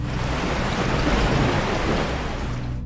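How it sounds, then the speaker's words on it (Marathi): Steady, dense rainfall pours down with a constant broadband hiss and low rumble, loud and unbroken throughout, no voices. "पावसाची एक जोरदार सर आली"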